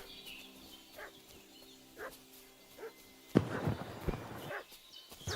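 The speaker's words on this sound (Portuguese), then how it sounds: "Se alguma coisa, esse cachorro tá latindo." A dog barks faintly in the distance in the medieval video game Kingdom Come: Deliverance II. A few soft, spaced barks are followed by louder clattering and footstep-like noises.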